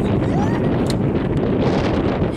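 Strong wind buffets the microphone in a steady, loud roar for the whole stretch, on a sunny, blustery day with hail, with no talk over it.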